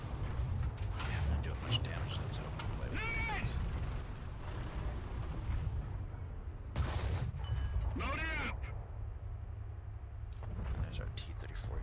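Tank gunfire in a World War II tank video game, including the crew's 88mm gun: heavy booming shots and blasts over a constant low engine rumble, with voices talking throughout.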